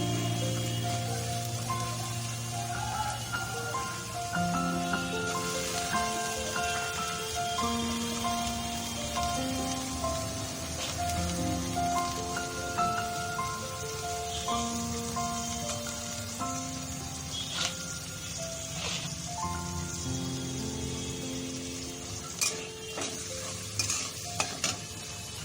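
Potatoes fry in oil in a pan for suji pulao, a steady close sizzle broken by repeated stirring scrapes and a few sharper clicks, with no speech.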